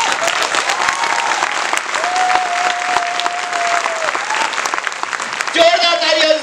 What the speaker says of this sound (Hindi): जोरदार ताली हम सब लोगों के लिए।